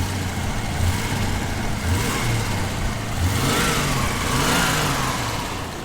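The engine of a 1974 Volvo 164 runs steadily close by, a loud, even mechanical drone with gentle swells in pitch and no clunks or knocks, with no voices over it.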